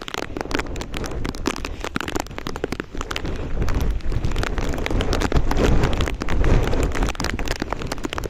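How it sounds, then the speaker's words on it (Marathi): Heavy monsoon rain pours at a hill fort, a dense, loud, continuous hiss of drops that swells louder in the second half with no voices. "पाऊस तुडो पडतोय"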